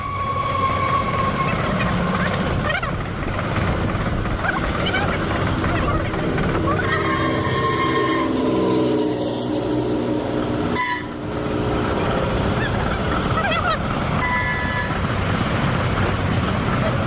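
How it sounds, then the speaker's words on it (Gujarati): At a busy railway station, rolling train noise and the clatter of wagons run continuously beneath people talking, with a brief sharp clank partway through. "આવી ગયું બચ્ચાઓનું રેલવે સ્ટેશન."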